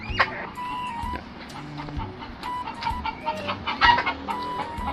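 A flock of chickens clucks and squawks nearby, with a rooster crowing amid the steady, busy chatter of the birds.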